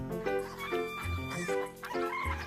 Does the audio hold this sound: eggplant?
no